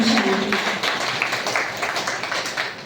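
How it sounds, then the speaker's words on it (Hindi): Many people in an assembly hall clapping together, a thick, even wash of applause holding steady from start to finish, fairly close and full. "भाई जी तालियां बज ही रही है"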